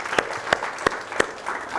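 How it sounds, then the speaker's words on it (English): Audience applause at an event, a few distinct separate claps standing out over a soft crowd murmur, brief and moderately quiet. "Can we give them a round of applause,"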